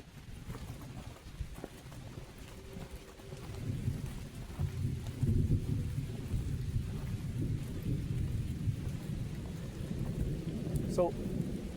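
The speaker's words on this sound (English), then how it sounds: "the rain is definitely trying to come down a lot harder" Heavy rain falls steadily on a trail while low thunder rumbles and swells through the middle, dense and continuous with a faint brief tone near the end.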